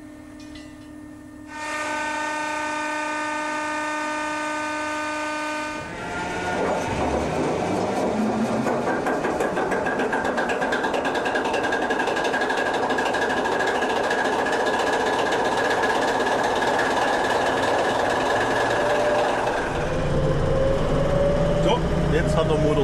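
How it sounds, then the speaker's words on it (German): A steady high whine and hum sounds first, then the diesel engine of a V300 locomotive cranks over on its electric starter and catches, rising into a loud rumbling roar that settles into a steady run. "wird der Dieselmotor durchgedreht durch die Lichtanlassmaschine"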